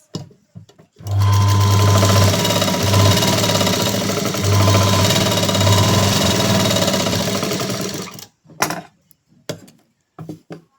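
Sewing machine running at a steady fast pace for about seven seconds while stitching a blouse, loud and close, followed by a few short clicks and handling sounds.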